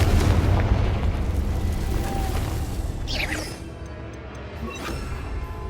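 A Confringo spell explodes in the video game Hogwarts Legacy, starting with a heavy rumbling boom that fades into a crackling sweep and a lighter tail.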